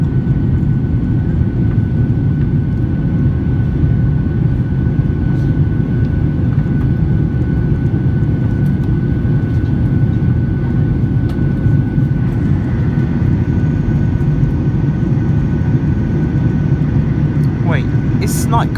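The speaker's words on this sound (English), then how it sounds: "Flaps being retracted. And we're just making a left turn." Constant loud cabin roar aboard a Ryanair Boeing 737-8AS jet climbing after takeoff as the flaps retract during a left turn, a steady engine and airflow rumble with faint clicks and a brief rattle near the end.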